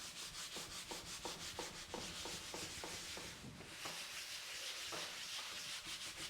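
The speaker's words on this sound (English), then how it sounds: "Make sure you rub in all directions." A flat palm rubs paper against a mono-print plate, giving rhythmic, close dry scrubbing strokes in quick repeated bursts that ease into longer, smoother rubs.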